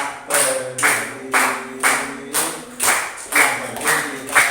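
Rhythmic group hand clapping by Pramuka scouts, a steady series of about nine loud claps in even groups, close and clear with no talk over them.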